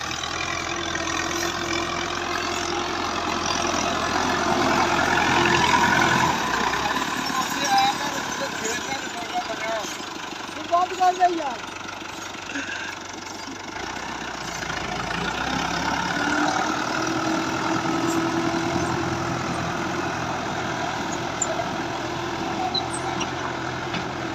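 A Fiat 85 HP tractor engine chugs steadily at a low pitch, pulling a cotton planter and running continuously nearby while people talk over it.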